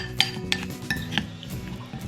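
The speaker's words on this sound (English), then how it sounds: "Give that a stir up" A spoon stirs melted liquid coconut oil in a bowl, knocking out four or five bright, distinct clinks against the side over a couple of seconds, close and clear with nothing else around.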